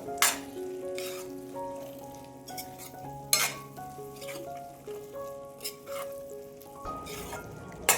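Cluster bean curry with black sesame paste is stirred in a frying pan, steady sizzling under scraping and clinking of a spoon against the pan, with occasional louder knocks.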